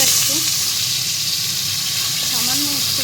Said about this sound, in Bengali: ভাজা ভাজা হয়ে গেছে এবার নামিয়ে নেব সজনের ডাটাটা